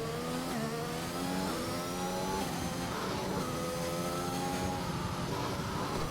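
Several sim-racing cars on an Austrian circuit drone through their engines at mid-level volume. Revs rise and shift steadily as one car overtakes another, and the blended engine notes overlap throughout.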